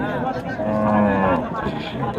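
A cow at a beef cattle market lets out a long, loud, close moo lasting about two seconds, with faint crowd noise around it.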